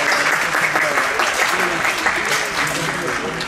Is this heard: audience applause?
yes